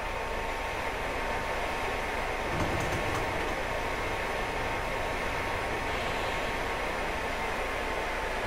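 An ICE high-speed train running in the Train Sim 2015 video game makes a steady, dense rumble with a hissing noise that holds evenly throughout, with no voices.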